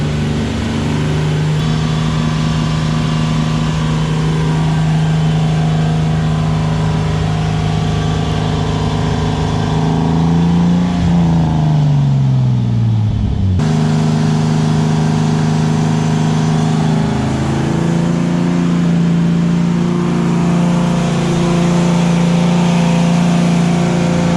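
Turbocharged BMW E30 with a 3.0L M52 engine runs on a dyno, loud and close. It holds a steady drone, then climbs and dips in pitch, cuts out abruptly, and picks back up.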